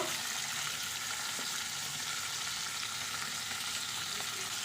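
Ingredients frying with salt in a pan for a Bengali dish of gourd leaves and prawn paste, a steady close hiss of sizzling oil running throughout with faint scrapes of a spatula stirring.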